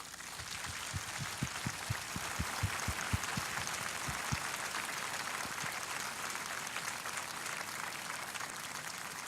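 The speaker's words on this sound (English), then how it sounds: "Please join me in a round of applause for their drill instructors." A crowd at a US Marine Corps ceremony claps for drill instructors in a broad, steady wash of applause that carries on throughout without pausing.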